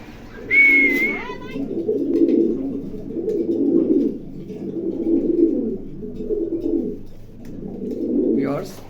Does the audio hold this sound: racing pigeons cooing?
yes